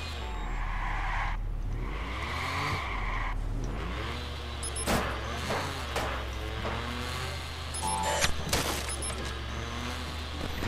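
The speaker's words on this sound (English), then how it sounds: "this car's engine sounds like a fly that's eating Taco Bell and has got the farts" A car in the Watch Dogs video game revs with a buzzy, high whining engine, joined by tire squeals and skids and some sharp impact bangs, loud and continuous throughout.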